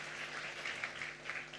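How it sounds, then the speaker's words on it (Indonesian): Congregation applauding for Jesus at a church service, a steady wash of many hands clapping together, moderately loud and continuous with no voices over it. "kalau mau tepuk tangannya yang paling meriah buat Yesus Tuhan kita"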